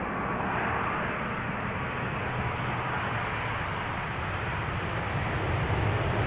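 A 19-year-old airplane at Schiphol Airport gives off a loud, broad, steady jet roar that holds constant and fills the whole stretch.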